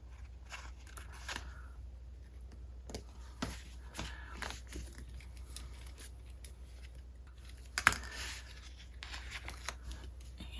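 A planner sticker is peeled off a paper deco sheet, giving faint crackling, rustling paper sounds and soft taps in a quiet room.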